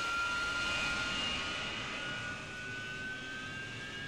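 A steady jet engine whine from an AV-8B Harrier in a flight simulator game hums with rising high-pitched tones as it spools up, fairly quiet and continuous, with no talking.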